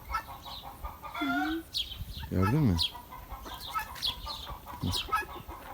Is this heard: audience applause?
no